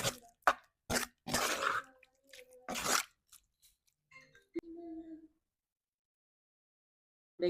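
Someone eating a home-cooked lunch of rice and curry, with close, wet chewing and squishing in short bursts separated by pauses, and a little speech mixed in.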